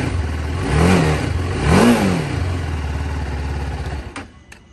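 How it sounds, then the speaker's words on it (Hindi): A motorcycle engine idles with a low throb, then revs up twice in quick surges, settling back to idle before cutting off abruptly. "अब इसका थोड़ा सा एग्जॉस्ट नॉट सुना देता हूँ आपको गाइस।"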